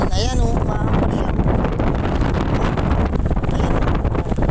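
Strong typhoon wind and heavy rain from Typhoon Aghon at a mega dike, a loud, constant roaring rush with buffeting gusts against the microphone, with a brief voice near the start.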